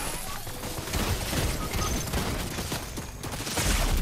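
A turret in a video game fires at an enemy in a rapid, continuous rattling barrage of shots with crashing impacts, loud and sustained over a few seconds.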